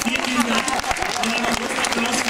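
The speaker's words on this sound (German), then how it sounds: "Einen großen Applaus für die Bitte" Audience applause at an organic retail award ceremony at the BioFach trade fair in Nuremberg, a short steady burst of clapping with a low hum and murmured voices underneath.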